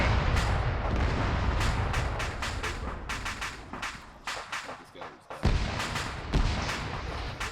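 During military training a rocket strike on a vehicle sounds as a loud, rumbling roar of blasts and rapid cracks that rolls on for seconds, dips briefly, then booms again.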